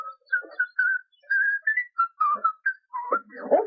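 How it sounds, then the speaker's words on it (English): A man whistles a jaunty, halting tune while strolling through quiet countryside. The phrases are short and broken by brief gaps, clear and close. "he began to whistle."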